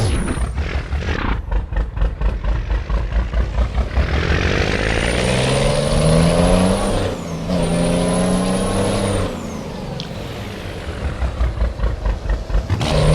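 Truck engine in Euro Truck Simulator 2, revving hard and then easing off as the accelerator is released. The pitch swings up and falls back in long sweeps, loud and steady, with no talk.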